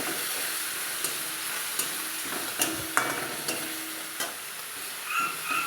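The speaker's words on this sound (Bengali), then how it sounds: "রসুন আর আদা বাটা দিলাম। ভালোভাবে নেড়ে নেবো, ভেজে নেবো লাল লাল করে।" Garlic and ginger paste fries in a pan with a soft, even sizzle while a spatula stirs it, adding sharp clicks and scrapes at uneven intervals.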